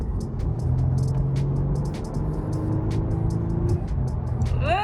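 A brand new car accelerating on a street, a steady close engine and road rumble rising slightly in pitch over about five seconds, with brief clicks and a faint rising whine near the end, no talk.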